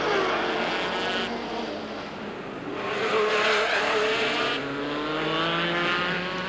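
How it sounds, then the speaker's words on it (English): A Jaguar V12 IMSA race car at the 1984 Miami Grand Prix accelerates out of a hairpin, its engine roaring loud and continuous with rising, wavering pitch and a brief dip midway, alone without voices. "The V12 engine powers the car out of the hairpin."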